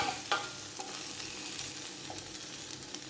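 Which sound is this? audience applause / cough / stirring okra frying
stirring okra frying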